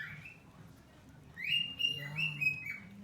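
A cockatiel chirping while eating toast indoors, a few close high whistled chirps in quick succession following a quiet moment, with low background murmur.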